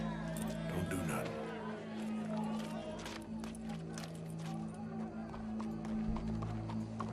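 Horse hooves clip-clop in Red Dead Redemption 2 among a crowd scene, with steady sustained tones and a busy murmur of voices throughout and people talking over the hoofbeats.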